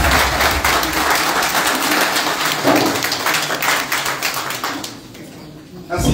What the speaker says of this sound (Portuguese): vou tocar uma salva de palmas